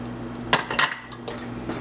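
A metal utensil clinks and scrapes against a pot while chicken is stirred with paprika for barbecue chicken, a few sharp taps close by over a quiet background hum.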